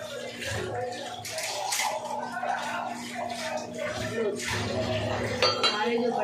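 Pots, pans and cutlery clink and clatter steadily while dishes are washed in an Indian home kitchen, with running water and a faint tune playing in the background throughout.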